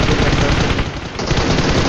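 Rapid automatic gunfire from a shooter video game rattles in dense, continuous bursts, loud and close, with no talking.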